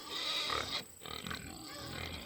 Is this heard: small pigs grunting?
yes